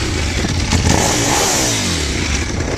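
A Ducati Streetfighter motorcycle engine runs loud and close, revving with a rough, throbbing roar that rises and falls, with some mechanical clatter and no talk.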